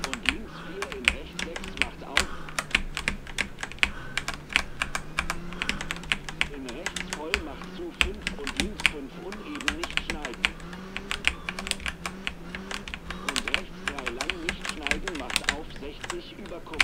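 Computer keyboard keys clatter in rapid, irregular bursts, close and crisp, while someone plays the WRC Generations rally game on keyboard in Arcade mode, with occasional talking.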